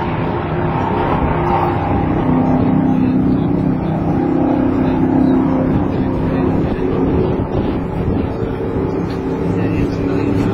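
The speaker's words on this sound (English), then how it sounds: "You're getting pushed out by one of these all-terrain vehicles." A race car in the video game Mario Andretti Racing is pushed down pit road by an all-terrain vehicle, giving a loud, steady, low engine drone that barely changes.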